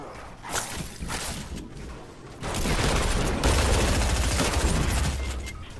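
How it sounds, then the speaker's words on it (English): Rapid bursts of video game gunfire in a multiplayer shooter round, loud and near, swelling into heavier sustained shooting in the second half, with little else over it. "As soon as you said that, I'm getting shot at."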